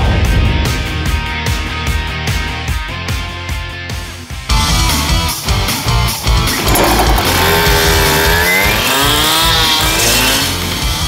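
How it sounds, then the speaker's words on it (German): A Hitachi CM75 EAP/EBP petrol cut-off saw with a 75 cc engine runs loud and close, its harsh engine drone steady through the clip and rising into a revving whine in the second half, with no talk. "Die Hitachi CM75 EAP und CM75 EBP Trennschleifer."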